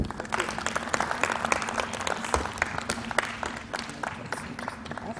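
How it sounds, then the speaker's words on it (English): A crowd at a smart card launch event applauds a central bank deputy governor after her speech, a dense sustained round of clapping with a faint low hum beneath. "Another round of applause for our Deputy Governor."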